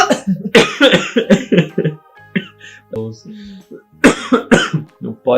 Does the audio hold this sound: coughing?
yes